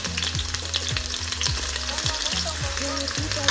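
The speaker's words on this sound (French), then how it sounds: "Notre huile est chaude, nous mettons maintenant nos oignons." Onions sizzle and fry steadily in hot oil for an okra (gombo) stew, with a spoon stirring through them in repeated scraping strokes, close and continuous with no talking.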